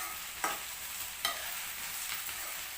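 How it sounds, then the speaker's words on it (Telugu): Okra fries in a pan with a steady soft sizzle, while a spoon scrapes and stirs it in a few distinct strokes that rise briefly above the hiss. "ఈ ఫ్రై కావడానికి టైం పడుతుంది, ఎందుకంటే బెండకాయలో ఉన్న జిగురంతా పోవాలి, ఇది మంచిగా ఫ్రై కావాలి."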